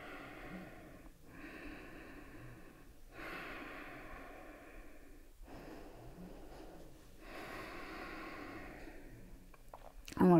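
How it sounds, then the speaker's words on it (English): Slow, deep breathing in a strong yoga pose: close, audible inhales and exhales in a steady rhythm, four long breaths of roughly two seconds each, ending with a brief rustle. "Breathe."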